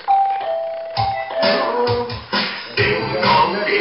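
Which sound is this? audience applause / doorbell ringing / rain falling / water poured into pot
doorbell ringing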